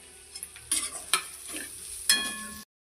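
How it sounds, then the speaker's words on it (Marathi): Mutton masala with onion, turmeric, goda masala and chili powder stirred and sautéed in a pan, giving soft scraping stirs and a low sizzle with a few sharper strokes of the spoon, close and alone. "बघा असा आपण मसाला चांगला परतून घेतला आहे"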